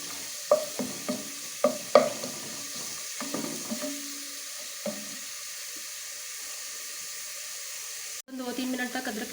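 Ginger garlic paste frying and being stirred in a pan, sharp scraping strokes and sizzle up front, then quieter, with a brief burst of noise near the end.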